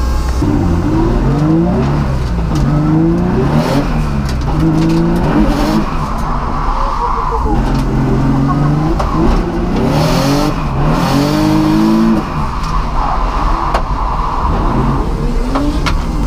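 A drift car on a track during a British Drift Championship Pro Am round, its engine loud and close as it revs hard in repeated rising and falling surges with tire noise underneath, continuous throughout.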